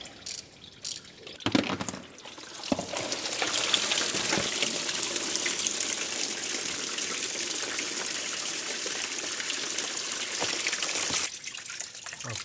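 Coolant pours out of an old tractor in a steady, loud gushing stream, close by, running for several seconds after a few brief clanks and then cutting off, with no talk over it.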